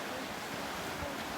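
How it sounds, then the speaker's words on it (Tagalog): Waves break on a beach in Pandan, Catanduanes as the surf grows stronger, a faint steady wash of water mixed with wind noise across the microphone, no voices. "Lumalakas na yung ano, alon."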